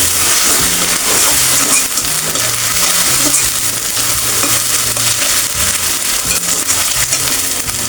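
Ginger garlic paste fries loudly in a pan with a dense, continuous crackling sizzle up close, while a low melodic tune plays underneath.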